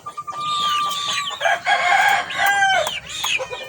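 Several chickens cluck and squawk close by, with a rooster crowing among them, busy overlapping calls throughout; the birds are being checked for colds.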